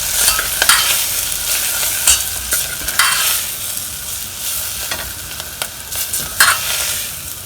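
Red chili powder and coriander powder masala stirred in a hot pan for a restaurant-style mushroom and paneer dish, giving a steady sizzle with repeated scraping strokes of the spoon throughout, close and fairly loud, with no talking.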